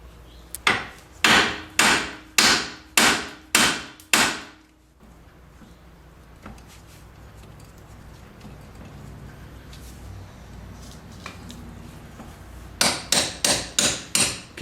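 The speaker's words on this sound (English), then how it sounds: "Instead of hitting the bolts themselves, hit the knuckle that it goes through." Sharp metallic hammer blows on the steering knuckle of a 1999 Pontiac Grand Am during front strut replacement, in two bursts, about eight rapid strikes, then a pause with faint shop noise, then five more quick strikes.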